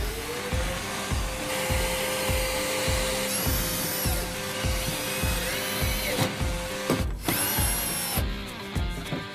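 A vacuum cleaner whines loudly and continuously while sucking up mouse debris inside a Chevy car, its pitch holding steady under rhythmic bumping and rattling from the nozzle.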